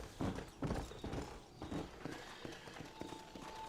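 Horse hooves clip-clopping in Red Dead Redemption, a fairly close, rhythmic trot of a few clear beats that settles into softer, quicker steps.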